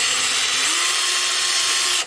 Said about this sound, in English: marked where I want these holes drilled, and so I'm going to go ahead and get it drilled.